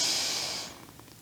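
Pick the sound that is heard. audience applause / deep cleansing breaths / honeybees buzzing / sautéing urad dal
deep cleansing breaths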